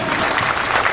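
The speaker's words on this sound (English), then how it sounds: "One more big applause to the state of Minnesota DFL Senate Leadership Group." Applause from a crowd at a campaign kickoff event, steady dense clapping filling the moment at moderate loudness.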